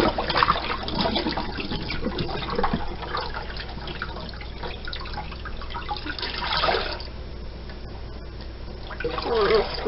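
Yarn dyed with food colouring is rinsed and squeezed in water, making steady close sloshing and trickling with shifting splashes throughout.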